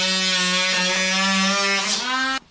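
A power tool cuts through plastic on the driver's side during a high-clearance protection install on a Ultimate, giving a steady, loud, high-pitched whine that holds for about two seconds and then stops abruptly.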